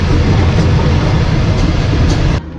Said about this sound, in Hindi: ट्रेन हमारी पतोकी रेलवे स्टेशन पर पहुंची थी और अब निकल रही है पतोकी रेलवे स्टेशन से।